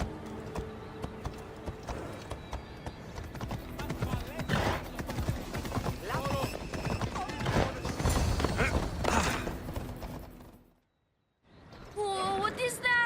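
Horse hooves clip-clop with a whinny from a horse in the Assassin's Creed Odyssey video game, layered with game music and effects, followed by a brief silence and then a voice speaking.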